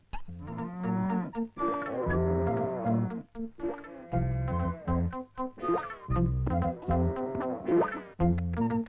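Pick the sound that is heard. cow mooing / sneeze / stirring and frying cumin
cow mooing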